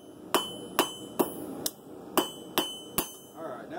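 A hammer strikes a steel blade on an anvil at the forge, seven sharp ringing blows in a steady rhythm, each with a short metallic decay, close and loud with no talk over them.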